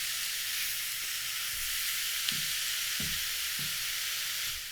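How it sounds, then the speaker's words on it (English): Steady broad hiss of taco filling sizzling in a hot pan, continuous and fairly close, with a few soft low clunks of utensils. "I can literally hear the sizzle"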